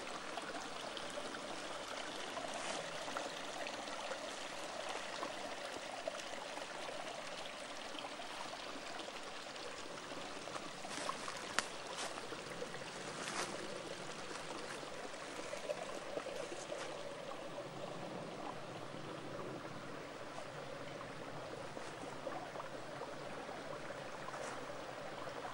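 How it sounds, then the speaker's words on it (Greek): A small river stream flows steadily through a natural farm plot, a quiet, continuous trickling and babbling heard alone at some distance. "Ανάμεσα το ποταμάκι."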